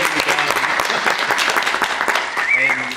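Loud, steady applause and cheering from an audience for a performer, dense clapping with voices mixed in, close and continuous throughout.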